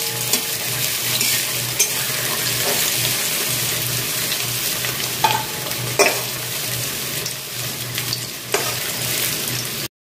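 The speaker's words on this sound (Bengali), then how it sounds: "আমি একটু পেঁয়াজটা ভেজে নিচ্ছি" Onions fry gently in a pan while being stirred. A loud, steady sizzle continues throughout, broken by occasional sharp clicks and scrapes from the utensil.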